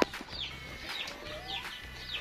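A Brahma-cross hen near her nest gives soft, close clucks and a few brief higher calls, quiet and without talk.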